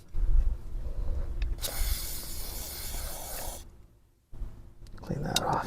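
Penetrating oil sprayed onto the chain of a 2022 Honda Grom, a sharp aerosol hiss lasting about two seconds and then tapering off, with a brief pause and handling noise after it.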